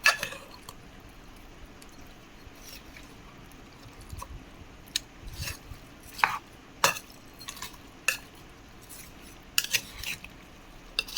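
Chicken biryani marinade with onions being mixed by hand or spoon in a bowl, giving close, wet squishing and stirring sounds in irregular bursts over a quiet background.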